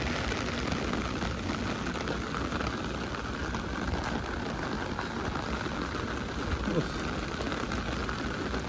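Rain pours onto a roof in a dense, even hiss that stays loud and unbroken throughout, with faint voices barely audible underneath.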